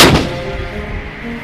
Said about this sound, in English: Long-range cannon.